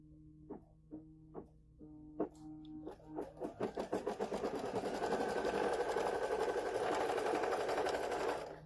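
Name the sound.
sewing machine stitching a quilt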